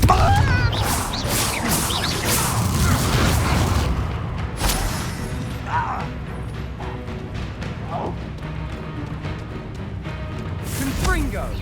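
Confringo fire-spell blasts in Hogwarts Legacy: repeated booming explosions and crashes during combat, with a character shouting the spell and other speech throughout.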